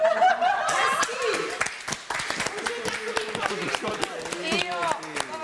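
People in a reality-show house clap in quick, uneven bursts of sharp slaps, mixed with laughter and chatty voices talking over the applause.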